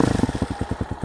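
A street-legal dirt bike engine idles nearby with a loud, even, chugging pulse of rapid regular beats and no revving.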